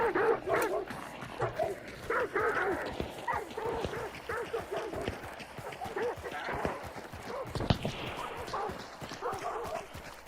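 Dogs bark and yip repeatedly, close and fairly loud, among clattering hoof-like knocks and game sound effects.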